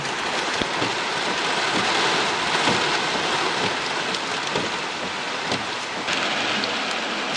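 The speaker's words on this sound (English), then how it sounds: "Heavy rain, heavy wind." Heavy rain pours steadily through a storm at an outdoor fireworks event in Norfolk, Connecticut, a dense continuous hiss of drops with gusting wind and scattered sharper splatters close by, loud and unbroken throughout.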